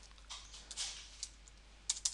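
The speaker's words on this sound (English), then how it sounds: "This is me typing out the merge field." Typing on a computer keyboard while entering a mail merge field, a few soft, scattered key taps close by against a quiet background, with a quick pair of sharper strokes at the end.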